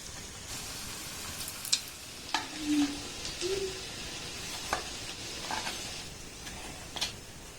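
Semolina pitha frying in hot oil, a steady soft sizzle broken by scattered clinks and scrapes of a utensil, with a couple of brief bubbling pops.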